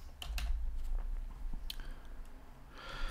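Quick bursts of clicking keystrokes on a computer keyboard while entering a search in an editor's extensions panel, soft and close, with scattered taps and a brief rustle near the end.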